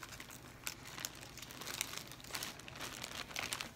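Scissors opening a mailed package while the wrapping crinkles, heard close as a steady papery rustle broken by sharp crackles throughout.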